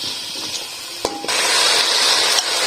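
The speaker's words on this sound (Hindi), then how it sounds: "अब इन आलूओं को, मटर को लहसुन अदरक के साथ अच्छे से हम लोग फ्राई कर लेंगे।" Potatoes and peas frying with garlic-ginger paste in a pan give a steady, close hiss and spray-like sizzle, rising louder partway through, with a few faint clinks.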